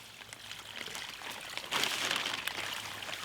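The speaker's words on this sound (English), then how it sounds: "I'm just going to add the water." Water poured into a tub of deck mud for a dry-pack shower pan, a soft trickling pour rising partway through and running steadily to the end, fairly close.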